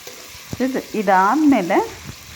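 Capsicum stir-fried in oil in a pan, a steady close sizzle with a brief voiced sound rising over it partway through.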